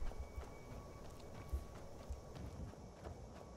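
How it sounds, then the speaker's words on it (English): Horse hooves in Skyrim clop softly at an unhurried walk, a few muffled thuds against a faint steady background. "Okay, I need my horse."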